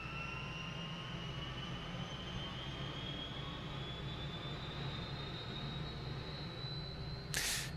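A UH-1H Huey helicopter turbine in a flight simulator game spools up steadily, a rising whine over a low droning hum, with a brief burst of noise at the very end.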